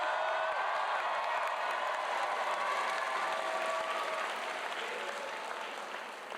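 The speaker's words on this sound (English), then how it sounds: "I'm expecting loud cheering for nuclear engineering." Crowd at a university engineering commencement cheering and clapping for nuclear engineering graduates, a sustained loud wash of applause with whoops mixed in, easing slightly toward the end.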